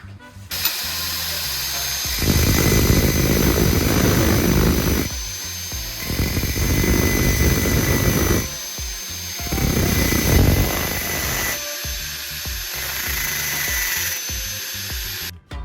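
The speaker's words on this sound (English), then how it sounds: "Attach the threaded end of the spark, plug to the drill, and grind down the top portion." A spark plug held in a spinning drill grinds against a grinding wheel in several long, loud, harsh bursts, separated by short pauses while the drill whirs alone.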